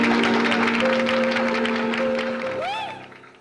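An audience applauds to welcome a performer, a dense clapping wash mixed with a sustained tone and other sounds, fairly loud, then fading out toward the end.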